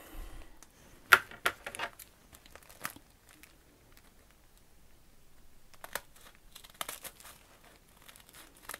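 Paper sandwich bags being cut into a triangle with small scissors, giving a few close, crisp crinkling snips and rustles in short bursts with quiet pauses between.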